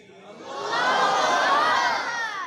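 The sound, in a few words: crowd chanting in response to Takbir slogan call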